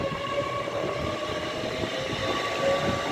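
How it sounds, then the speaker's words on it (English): An Avanti West Coast train pulls out of Rugby station, a low, rumbling, distant rolling sound with faint tonal whines over a steady bed of platform noise, no voices. "Leaving now, 13 minutes late is the delayed 12:15 Avanti West Coast service to Birmingham New Street."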